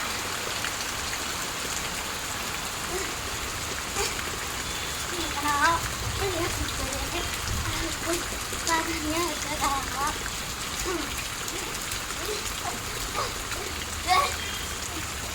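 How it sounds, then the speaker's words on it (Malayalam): Steady rain falling, a dense even patter with occasional louder splashes of drops, continuous throughout. "അവസ്ഥ മഴ പെയ്യുന്നുണ്ട്"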